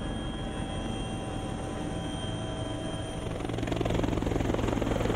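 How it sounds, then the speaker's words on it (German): A helicopter drones steadily nearby over an alpine valley (Schwarzleotal, Austria), its rotor chop growing louder and more pronounced toward the end. "Bei einem ersten Flug bringt der Hubschrauber einen Einweiser auf die Stöckelalm."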